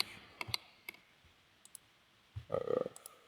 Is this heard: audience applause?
no